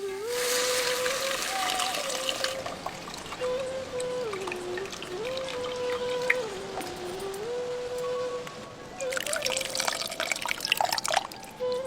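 Steady stream of water pouring into a pot of tomato and tamarind for garlic rasam, continuous splashing and trickling throughout, with a brief louder gush near the end.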